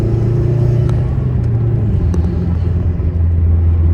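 A car driving on the road after a blown fuse was fixed, its steady low engine and road rumble holding close and even throughout, with no talk.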